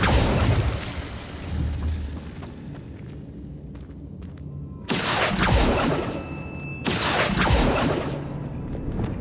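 Incendio fire spell cast in Hogwarts Legacy on Switch, bursting as two sudden loud explosive blasts with fiery whooshes, each ending in a sharp cutoff, after a stretch of quieter rumbling game ambience.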